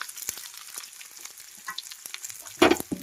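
Chopped onion pieces frying in hot oil in a small pan, a soft continuous sizzle with scattered crackles and a brief louder stirring scrape near the end.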